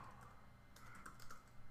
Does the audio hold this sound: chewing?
no